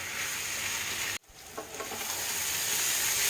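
Teasel gourd and potato fry with spices in a pan, a close steady sizzle that drops out briefly, then returns with stirring scrapes and rising hiss, no voices.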